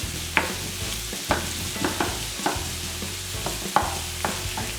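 Onions fry golden in a pan with salt, a steady close sizzle broken by regular scraping stirs about once a second, over a low steady background drone.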